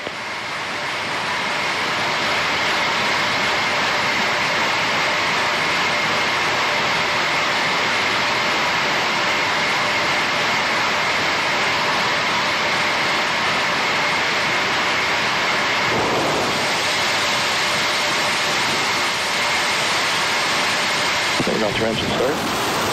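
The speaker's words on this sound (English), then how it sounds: "Signal to engine start." SLS core stage rocket engines roar through a hot fire test at Stennis Space Center, a loud, continuous broadband thunder that holds steady from the first seconds to the end, with faint announcer voices beneath.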